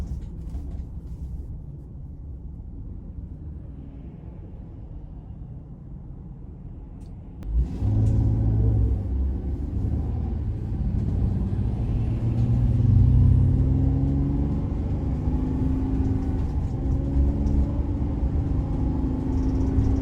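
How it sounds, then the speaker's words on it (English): A 2021 Ram 3500 ProMaster conversion van with a V6 engine, heard from inside: a low road rumble, then the engine drone swells sharply and holds loud under heavier throttle. "And to get the V6 going, it does require quite a bit of throttle"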